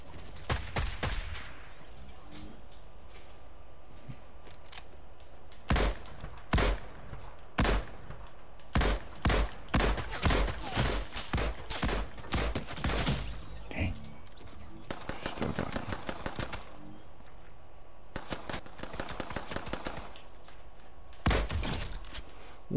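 Bursts of gunfire from a Fortnite gun-game match on the Nuketown map: rapid volleys and single cracks come in clustered runs with short pauses, loud and close, and there is no talk over them.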